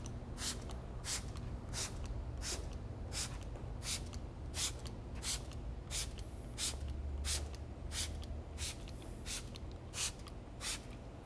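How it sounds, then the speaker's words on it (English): A trigger sprayer mists interior protectant onto a car seat in about sixteen short, even bursts, close and regular, over a steady low background hum. "So just spray a nice little coat."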